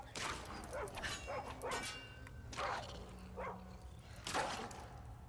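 A dog companion in the video game Skyrim barks and yelps in short bursts over a steady game ambience, close and fairly loud.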